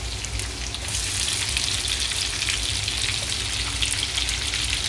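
Garlic and ginger sizzle steadily in hot oil as onion is added for fish sarciado, a dense continuous frying hiss up close with no speech.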